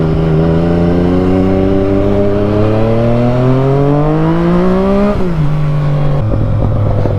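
A motorcycle engine revs loud and close on the road, its pitch climbing steadily for about five seconds, then dropping back and settling into a lower drone, with no talking.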